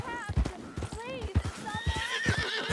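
A horse in Red Dead Redemption 2 whinnies in several rising, wavering neighs alongside clip-clopping hooves, close and moderately loud, with a person talking over it.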